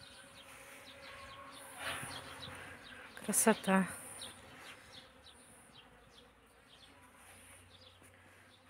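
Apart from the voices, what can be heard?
bees buzzing on flowering blueberry bush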